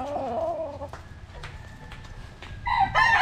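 A young stag rooster on a Philippine farm crows loudly and close by in a short burst at the end, with another bird's call earlier and faint clucking between.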